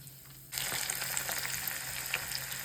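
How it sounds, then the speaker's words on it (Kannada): Spices and asafoetida hit hot oil for a mango pickle tempering, bursting into a sudden loud sizzle after a brief quiet moment, then crackling and spitting steadily up close. "ಎಣ್ಣೆ ಕಾದಿದೆ, ಒಗ್ಗರಣೆ ಹಾಕ್ಲಾ?"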